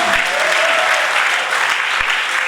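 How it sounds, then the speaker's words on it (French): Loud, close applause from guests at a civil wedding ceremony before a mayor, a continuous dense clatter of many hands with a couple of low thumps. "Applaudissons s'il vous plaît."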